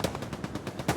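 A video game machine gun fires a rapid burst of about eight evenly spaced loud shots, close and dry, with no talking.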